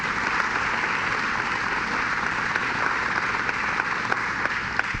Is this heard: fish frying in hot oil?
no